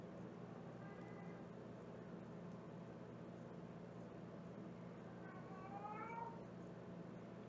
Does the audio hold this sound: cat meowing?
yes